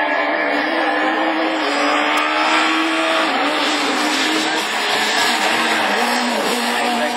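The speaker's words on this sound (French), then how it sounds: "La Clio du type Lonné remonte en deuxième position." A Renault Clio Super 1600 rallycross car races flat out around the track at Lessay, its engine roaring loud and steady with tyre noise, alongside other cars, with no talk in the clip.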